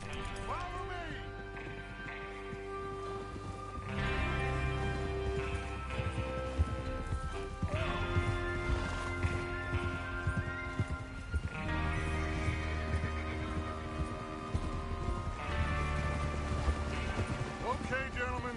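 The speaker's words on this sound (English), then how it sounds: "Get your horses ready." Horses trot in a Red Dead Redemption 2 train-robbery mission, their hooves clip-clopping rhythmically at a moderate distance beneath a layer of game music and other sounds.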